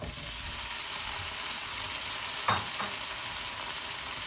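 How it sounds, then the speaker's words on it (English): Potatoes tipped into a sizzling egg curry masala base in a pan, a steady close frying hiss with a brief louder burst of sizzle and clatter midway as they land and get stirred. "So I'll add in my potatoes now"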